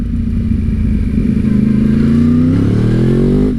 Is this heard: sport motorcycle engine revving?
yes